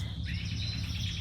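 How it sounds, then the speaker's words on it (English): Small pet birds chirp and tweet in quick, bright calls, continuous and fairly close, with no voices over them. "It is so good to hear the birds tweeting like this."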